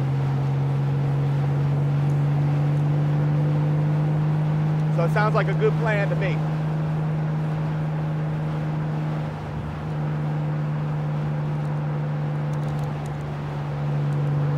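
Steady low engine drone of a motorcycle cruising at about 65 mph on the highway with wind rush, someone talking briefly over it partway through.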